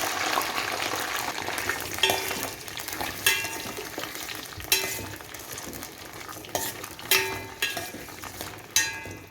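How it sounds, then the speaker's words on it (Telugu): Capsicum pieces frying in hot oil in a pan for a masala capsicum curry, a steady loud sizzle broken by repeated stirring scrapes and clinks, with no talking. "ఇప్పుడు క్యాప్సికమ్ జస్ట్ కొంచెం లైట్గా అడిగేసి ఆయిల్లో ఫ్రై చేసుకుంటాం."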